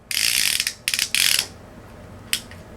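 The ratcheting clamp of a Tidal Tek car phone mount clicks in rapid, buzzing bursts, a long run followed by two shorter ones and a single brief snap, close and crisp with no one talking.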